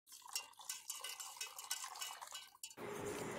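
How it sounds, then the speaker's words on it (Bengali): A spoon scrapes and clinks against a small metal strainer while mashed roasted mango is pressed through it, a busy stretch of close metallic rattling that gives way to a steady, even rush. "তো এই ছোটো ছাঁকনিটা দিয়ে ছেঁকে নিলাম।"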